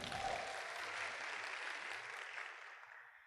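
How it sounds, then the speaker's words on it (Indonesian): A seminar audience claps together in a sustained burst of applause that stays dense and even, then gradually thins out and fades near the end. "Oke, mohon aplaus untuk kita semua"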